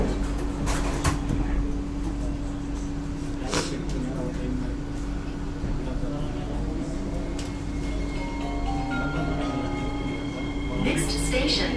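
An SMRT KSF C151A metro train on Singapore's East West Line runs between Lavender and Paya Lebar, with a steady loud interior hum and motor whine, rail rumble and occasional clacks throughout.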